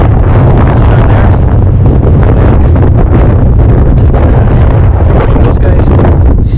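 Strong wind buffets a rooftop during a satellite dish installation, a loud, constant roaring rush that never lets up and swamps the microphone throughout.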